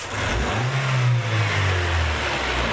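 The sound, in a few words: car engine revving during snap throttle test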